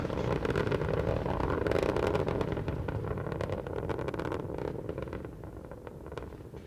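Space Shuttle Endeavour's three liquid-fuel main engines roar during launch from Kennedy Space Center, a dense, continuous rumbling thunder with crackling texture that stays loud throughout and eases slightly toward the end.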